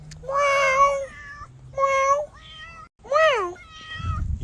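A friendly cat meows close by, a series of four or five drawn-out, rising and falling meows in a conversational rhythm, with a brief rustle at the end.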